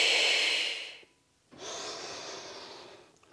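During a Pilates core exercise, a long forceful exhale through the mouth, breathy and close, fades out, followed after a brief pause by a second softer, sustained breath that trails off.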